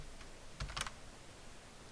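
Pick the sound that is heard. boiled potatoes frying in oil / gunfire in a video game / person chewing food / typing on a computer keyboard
typing on a computer keyboard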